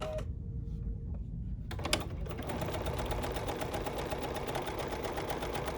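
A Bernina sewing machine stitches a scallop pattern on the edge of fabric, starting with a few light clicks before settling into a loud, continuous, rapid mechanical whirr close by.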